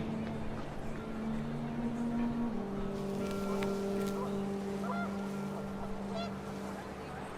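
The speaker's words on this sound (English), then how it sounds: "The wind picked up, and panicked geese appeared and quickly went." Panicked geese honking in the video game What Remains of Edith Finch, sustained and fairly close over gusting wind and a low droning rumble, with a voice speaking partway through.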